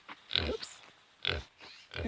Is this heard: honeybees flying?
no